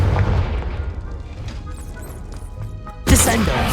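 A Confringo spell blast in Hogwarts Legacy lands as one sudden loud crashing boom near the end, following a stretch of lower game noise and a voice.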